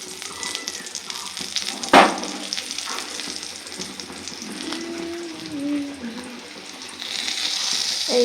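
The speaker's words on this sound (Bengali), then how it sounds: "পটল ভাজা হচ্ছে" Pointed gourd frying in a pan at home gives a low continuous sizzle, with one sharp clank early on and some faint background household noise later, no speech over it.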